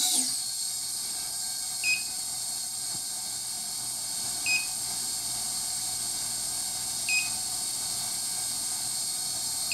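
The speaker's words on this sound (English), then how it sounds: "Sorry about the beeping, since I have my throttle all the way down." Short, high electronic beeps from an armed FPV quadcopter drone with throttle at zero repeat at roughly two-and-a-half-second intervals over a constant background hiss.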